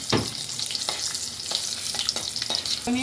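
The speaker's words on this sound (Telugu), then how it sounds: "దోరగా వేయించుకోవాలి. గోల్డెన్ బ్రౌన్ కలర్ రావాలి జీడిపప్పు." Cashew nuts frying in a pan on low heat until golden brown produce a close crackling sizzle punctuated by regular stirring clicks and scrapes of a spatula against the pan.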